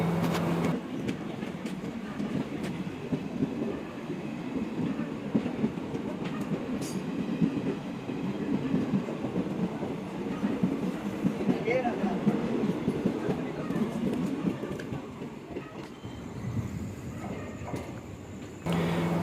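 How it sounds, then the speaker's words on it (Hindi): A train passing on the railway gives a steady, loud rumble of rolling cars with rattling wheel noise throughout, easing slightly near the end. "एक्चुअली वही ट्रेन थी जिसमें मिसेस केडी और प्रीशा जाने वाले थे।"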